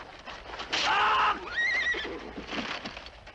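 Horses whinny loudly in a 1958 Kurosawa samurai film, two drawn-out neighs in close succession over a rustling, busy background, with faint hoof clatter and no speech.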